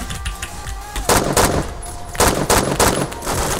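Rapid gunfire bursts from a rifle fitted with a muzzle brake in the video game Phantom Forces, several loud repeated volleys in quick succession.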